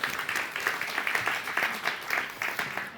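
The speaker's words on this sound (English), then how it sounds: "Can we just a round of applause for our top 25?" Steady applause from a crowd, dense clapping that swells and fades in small waves, fairly close and continuous throughout.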